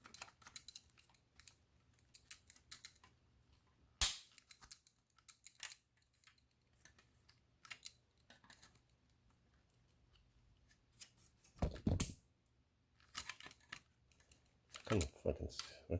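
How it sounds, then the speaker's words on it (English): Scissors cut through material while a DIY LiFePO4 battery pack is being set up, with sharp snipping bursts and scattered small clicks and handling noises in a quiet room. "What kind of scissors is this?"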